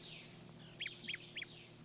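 Birds chirp at dawn in a Roblox game scene, a few quick bright tweets repeating over a soft steady hum, fairly faint and with no talking.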